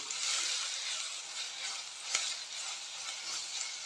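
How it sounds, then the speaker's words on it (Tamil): Ginger garlic paste sautéing with chopped green chili, mint leaves and a sprig of curry leaves in hot oil for a chettinad-style chicken gravy, giving a steady close hiss with one brief scrape midway. "கூடவே ஒரு பச்சை மிளகாய் கட் பண்ணி சேர்த்துட்டு கொஞ்சமாக புதினா இலை, அப்புறமா ஒரு கொத்து கருவேப்பிலை சேர்த்துட்டு இஞ்சி பூண்டோட பச்சை மணம் போகிறது வரைக்கும் நல்லா வதக்கிக்கலாம்"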